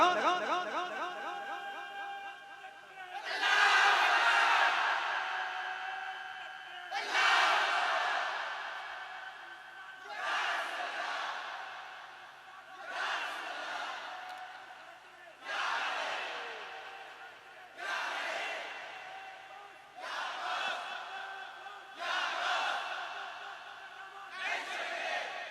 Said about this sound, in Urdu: یہ میرا بھائی نعرہ لگائے گا ان کی آواز جتنی بلند ہوگی ان سے بھی زیادہ بلند آواز میں